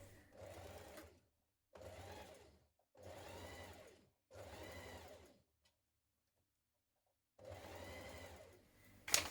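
A domestic sewing machine stitches a cardigan seam in four steady bursts of about a second each, with pauses between, then a final run ending in a small clunk, and no voices.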